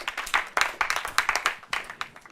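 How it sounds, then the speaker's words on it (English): An audience at a university law quiz competition between two Ghanaian law faculties claps in uneven bursts of several hands, fairly close, rising and dipping briefly with no voices over it. "A round of applause for our contestants."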